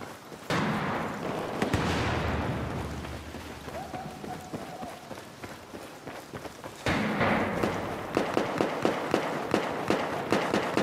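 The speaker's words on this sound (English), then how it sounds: "I'm getting pelted though with bullets." Gunfire in Battlefield 4: steady crackling bursts and impacts from a firefight, a dense rain-like clatter that drops back and then returns louder with a run of rapid sharp shots.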